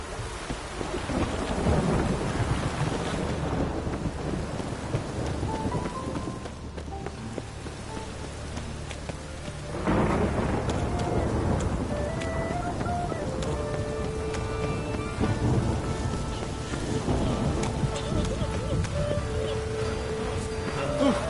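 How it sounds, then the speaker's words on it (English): A thunderstorm with steady heavy rain and loud rolling rumbles of thunder, sustained and full throughout, with a few faint tonal sounds beneath. "A storm, damn it."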